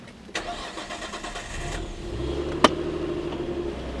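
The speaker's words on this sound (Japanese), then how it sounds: "エンジンかけちゃうね。" A Nissan Skyline ER34 25GT Turbo sedan with an RB25DET engine cranks briefly and catches, then settles into a steady, close, low idle hum with a short sharp click partway through.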